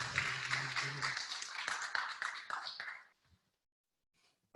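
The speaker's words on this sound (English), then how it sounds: "Let's give Nick, our 4th speaker, a round of applause" A class audience claps for Nick Noel, the fourth speaker, in a short burst of scattered hands with a low murmur underneath, cutting off abruptly into near silence.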